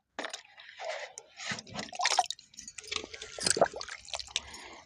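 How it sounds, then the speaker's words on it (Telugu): Water is poured over fenugreek seeds covered with a wet cloth for sprouting, giving soft intermittent splashes and trickles close by in short bursts, with quiet gaps between them. "ఇది వేసుకొని నీళ్ళు పోసుకున్నామంటే మంచిగా ఉంటుంది"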